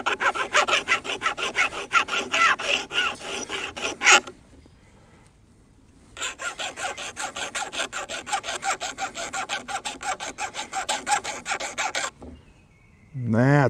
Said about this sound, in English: I'm going to use this small round file and make sure that there's no burrs on the inside